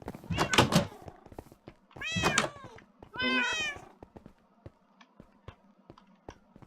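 Cats in a Minecraft game meow three times in clear, close, drawn-out cries spaced about a second apart, with a brief spoken exclamation and soft thunks and clicks in between.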